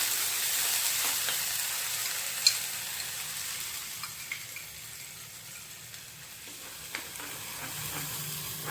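Already-cooked masala frying in oil in a pan, giving a soft, steady sizzle with a few sharp clicks and faint stirring scrapes. No voices.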